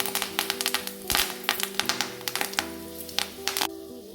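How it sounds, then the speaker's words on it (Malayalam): Curry leaves dropped into hot oil in a pan while making a prawn roast crackle and spit in rapid, irregular pops over a steady background hum, close and fairly loud. "എണ്ണയിലേക്ക് നമുക്ക് കുറച്ച് കറിവേപ്പില ഇട്ട് കൊടുക്കാം."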